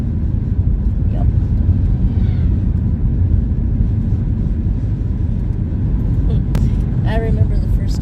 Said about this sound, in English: Gotta love driving the rural roads.